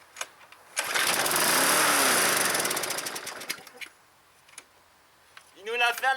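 A small engine sputters into life after a pull start and roars steadily for about three seconds before dying away, followed by a few faint clicks and a burst of voices at the end.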